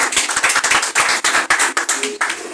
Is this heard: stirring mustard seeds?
no